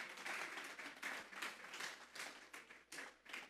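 Congregation applause at a church service, a faint, steady patter of clapping from a gathered crowd heard from a distance.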